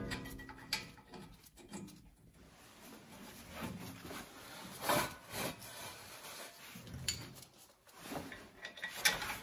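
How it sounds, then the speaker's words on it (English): Two 17 mm bolts being threaded back into the front brake assembly of a 2016-2022 Toyota Tacoma, quiet intermittent metallic ratcheting and scraping with small clicks, close up and faint, no voices. "Get your two 17 millimeter bolts here and thread them back in."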